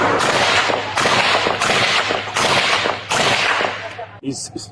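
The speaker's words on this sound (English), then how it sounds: "a deputy-involved shooting occurred" A deputy's gunfire at a man holding a shotgun in Thousand Oaks, California, comes as a rapid, loud, continuous volley of overlapping shots for about four seconds. It ends abruptly, and brief voices and noise follow.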